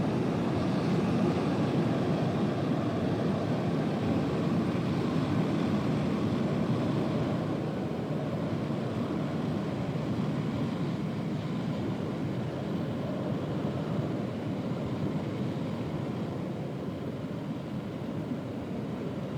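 Airliner jet engines in Microsoft Flight Simulator 2020 give a steady, broad roar with a low rumble underneath, holding even and moderately loud for the whole stretch without any voices.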